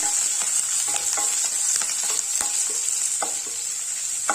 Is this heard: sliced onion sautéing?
yes